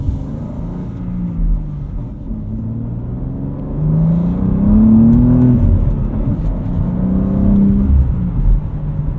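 A 2025 BMW M2 with a turbocharged inline-six and six-speed manual accelerating hard at full throttle, its deep rumbling note rising steadily in pitch as the revs climb, loud and continuous with no talking.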